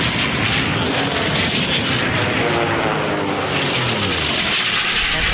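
Dreadnought, an unlimited-class racing airplane at the Reno Air Races, roars past with a loud, sustained piston-engine drone that swells and shifts pitch as it sweeps by, with faint commentary beneath.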